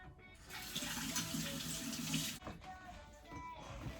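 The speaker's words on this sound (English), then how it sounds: "I'm just gonna rinse off my spoon over here." Running tap water rinsing a mixing spoon in a kitchen sink, a soft steady splashing stream for about two seconds, then quieter drips and trickles as the flow stops.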